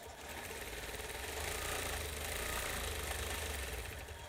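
A sewing machine runs steadily while stitching crosshatch quilting, a close, even mechanical whir with a fast rhythmic needle pulse that holds level throughout, and no talking.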